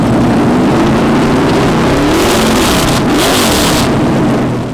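A race car built from a 1970 Dodge Charger body on a 2012 NASCAR chassis revs its engine loud and close, rumbling deep and rising and falling in pitch across several throttle blips, with no voices.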